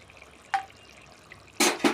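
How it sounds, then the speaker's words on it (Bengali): Ghee sprinkled into a hot pan of paneer masala gives a brief splash-like sizzle at the start, then two louder, longer sizzling bursts close together near the end, with no talking. "তারপর দিয়ে দেব ঘি, অল্প ঘি ছিটিয়ে দিয়ে দেব।"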